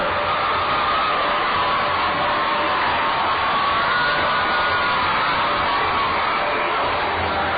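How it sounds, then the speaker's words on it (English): A minor-league baseball crowd at Cedar Rapids roars and cheers a home run hit over the picnic pavilion, a dense, sustained wash of voices and whoops that holds steady for several seconds. "Crowd loves it, John."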